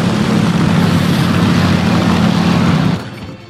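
A propeller-driven fighter plane's engine from War Thunder, early US aviation tier, drones loud and steady for about three seconds, then drops away abruptly.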